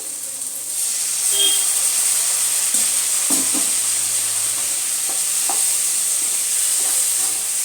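Loud, steady sizzling fills a pan as water is added to okra cooking with fish roe, with a constant steamy hiss and a few soft stirring scrapes partway through.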